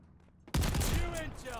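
A double-barrel shotgun in a video game goes off in one sudden, loud blast after a quiet lead-in, with a long booming echo that slowly fades.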